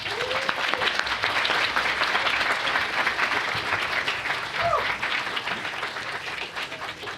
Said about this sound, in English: please give a round of applause to Robert Meyer.